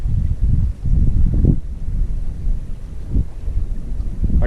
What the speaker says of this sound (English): I know I got a south wind blowing at me, southeast wind. It's a cold wind.